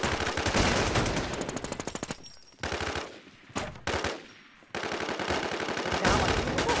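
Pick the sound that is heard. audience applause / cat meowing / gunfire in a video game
gunfire in a video game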